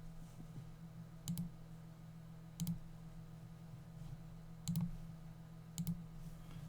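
Arc sine is typed into Desmos on a computer keyboard as four short bursts of quiet, close key clicks, spaced a second or two apart over a low steady hum.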